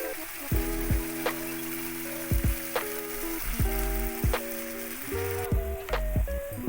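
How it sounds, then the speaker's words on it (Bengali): Spice-rinsing water goes into hot oil in a pan for a rohu fish curry, producing a steady sizzle with crackling spatters, heard close with no talking. "তেলটা ভেসে উঠেছে, এর মধ্যে আমি মশলা ধোয়া জলটা দিয়ে দিচ্ছি"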